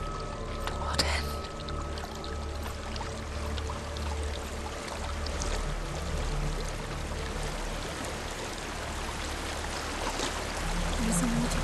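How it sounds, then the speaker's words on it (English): Steady rushing and pouring water from a waterfall in the video game Hellblade: Senua's Sacrifice, a continuous wash of noise with low rumble and faint tonal music beneath, holding at an even level throughout. "There's a waterfall."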